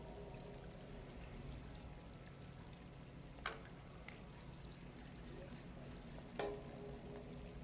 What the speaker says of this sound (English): Can I fill the bucket with some water?